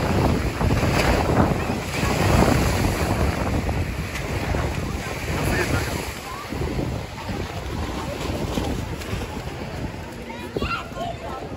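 Sea waves wash and surge on a windy coast near Mudanya, a steady roar of surf and water mixed with heavy wind buffeting the microphone, continuous and loud throughout.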